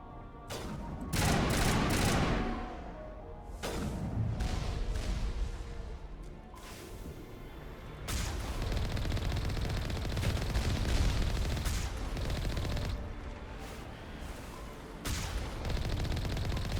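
Bursts of gunfire in Mass Effect as turrets are shot, with rapid fusillades, booming blasts and crashes coming in dense waves under game sound.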